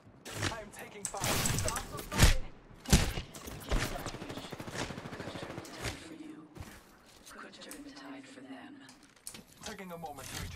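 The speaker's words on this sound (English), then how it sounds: "Shot fired, and they're hitting me." Bursts of gunfire striking the player in a shooter game, loud sharp shots clustered early and then thinning out, mixed with game effects and talk.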